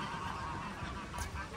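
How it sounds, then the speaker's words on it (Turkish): Waterfowl at a nature park honk repeatedly in a noisy flock, with mandarin ducks among the birds, the calls overlapping at moderate distance over outdoor ambience. "Burada da mandarin ördekleri var."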